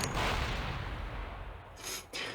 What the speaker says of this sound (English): Suddenly, there's an explosion so loud, I think my eardrums are blown out.